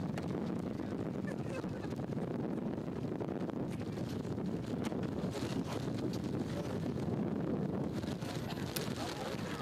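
Wind buffets an outdoor microphone at a football club's first training session of the 2025/2026 season, a steady, loud low rumble that blankets the whole stretch with constant gusting.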